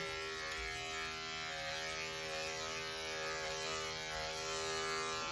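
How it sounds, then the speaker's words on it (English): Electric clippers buzz steadily and close while shaving the hair on a cocker spaniel's leg, a constant humming drone with no talking. "I'll hold her leg out front like this, and I'll shave the hair toward me"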